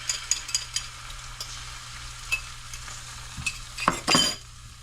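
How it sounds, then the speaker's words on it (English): An egg sizzles as it fries in a pan, with a steady crackle throughout and a louder, denser burst of frying near the end, punctuated by a few light utensil taps. "Okay, so then I'm going to add my 1 egg."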